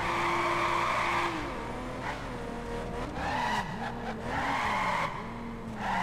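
A car handbrake skid in the video game The Crew: tires squeal in long wavering tones over a steady engine drone, sliding and rising repeatedly across several seconds with no voices.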